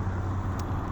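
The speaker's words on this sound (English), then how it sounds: "sorry about the loud noise with the traffic." Road traffic passes near a campground, a steady low rumble of cars that holds at an even, moderate level for the whole second with no voices.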